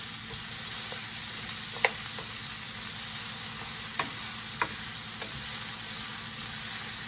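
Onions frying in a pan right after liver was cooked in it, a steady broadband sizzle throughout with a few sharp clicks of a utensil stirring and scraping.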